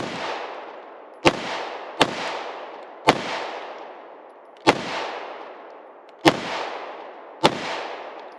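A Smith & Wesson M&P 2.0 compact 3.6-inch pistol fires six sharp shots at uneven intervals, each loud and close with a long ringing decay, with no talking between them.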